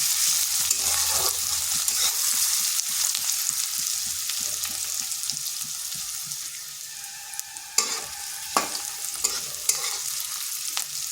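Onions fry in oil with a pinch of turmeric in a home kitchen: a constant bright sizzle runs throughout while a spatula scrapes and stirs in quick, regular strokes, with a few louder knocks near the end.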